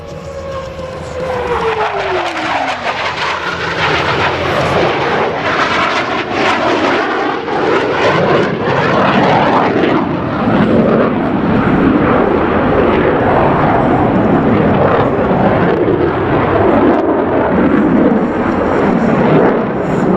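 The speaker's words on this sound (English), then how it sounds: "Simultaneously roll their aircraft 720 degrees with a closure rate of over 800 miles per hour." Blue Angels U.S. Navy jets perform opposing horizontal rolls at the 2017 New York Airshow, one engine roar sweeping past early before a loud, sustained jet rumble fills the sky for the rest of the clip.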